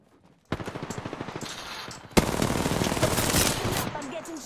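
Video game gunfire: a rapid automatic burst rattles steadily, then a sharp louder blast leads into denser, heavier firing that continues to the end, close and loud.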